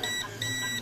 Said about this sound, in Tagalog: So meron pa rin buzzer